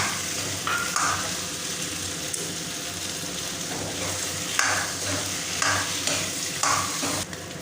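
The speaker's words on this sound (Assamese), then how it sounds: "এতিয়া মই অলপ দেৰি ভাজিম" Potato pieces and jackfruit seeds fry in a pan with a loud, continuous sizzle, broken by repeated scraping and stirring strokes of a spatula.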